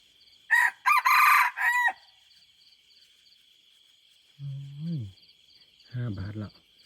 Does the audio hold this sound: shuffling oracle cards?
no